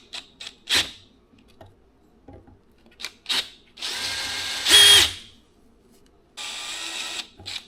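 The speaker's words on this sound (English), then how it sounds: "So I'm gonna try and do it with the center drill first" Center drill cleaning out a slot on a Triumph 650 engine during a sludge trap teardown: short bursts of drilling and grinding, with two longer sustained runs, close and fairly loud, with quiet gaps between them.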